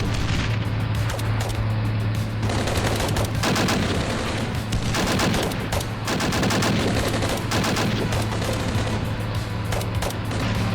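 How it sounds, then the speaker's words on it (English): Mortar rounds and battlefield fire in the Armored Brigade II war game: dense, loud bursts of booming shots and rattling gunfire, layered continuously throughout with no pauses. "And then my first round of mortars goes off."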